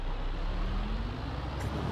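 A tractor engine from the Farming Simulator 22 video game, a steady low diesel rumble with a faint rising whine, droning on continuously and fairly close with no speech.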